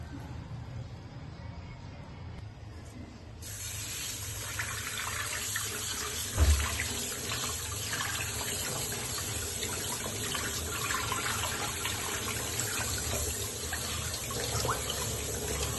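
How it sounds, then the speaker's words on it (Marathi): Tap water runs steadily over fenugreek leaves being rinsed in a sieve, a continuous close rushing splash that starts after a quieter few seconds and carries on with no talking. "स्वच्छ जाळाखाली आपण मेथी धुवून घ्यायची."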